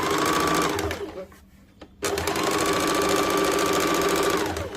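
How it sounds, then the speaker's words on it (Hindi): Sewing machine stitching around the full curved waist of a bias-cut churidar, whirring loudly and steadily up close, broken by one short pause before it speeds up again. "इस प्रकार से पूरे गोलाई से कमर में सिलाई कर देंगे।"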